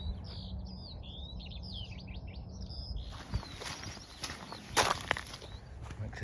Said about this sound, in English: Listening to the birds now,